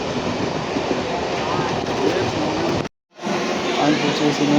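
A train at Dum Dum station makes a steady, loud rail rumble with a brief, abrupt dropout partway through, then the rumble continues.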